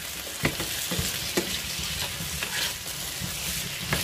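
Potatoes frying in oil in a pan hiss steadily up close, broken by several sharp stirring scrapes and clacks at irregular intervals, with no voices.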